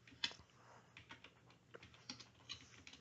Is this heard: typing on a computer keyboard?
yes